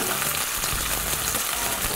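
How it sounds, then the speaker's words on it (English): Sesame-crusted tuna sears in a hot pan with a dense, continuous loud sizzle, and sesame seeds pop and crackle throughout, close up. "The seeds are popping all over me, but that's all right."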